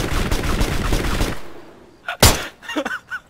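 Video game gunfire, a dense loud rattle of rapid shots that stops abruptly, then a single sharp crack followed by a few scattered fainter shots and mechanical clicks.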